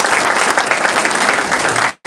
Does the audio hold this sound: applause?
yes